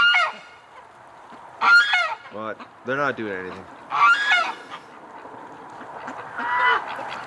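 Ducks quack and honk in loud nasal calls near the listener, in several separate bursts over a few seconds outdoors on a frozen winter day, with a voice speaking briefly among them.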